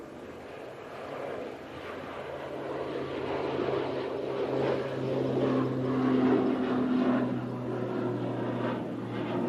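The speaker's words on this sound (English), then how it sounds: "that ATR to Dublin is on the roll." An ATR turboprop airliner bound for Dublin rolls down the runway at Manchester Airport, its steady engine drone swelling and tones rising as power builds, heard at a distance with some wind noise.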